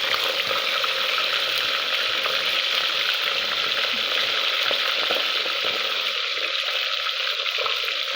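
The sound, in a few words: fish frying in oil in a pan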